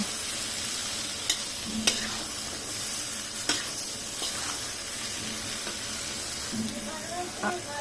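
Taro stolons sautéing in a pan make a continuous sizzle and hiss, with sharp scraping stirs and a few clinks of a utensil against the pan over the steady frying.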